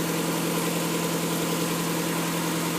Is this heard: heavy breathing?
no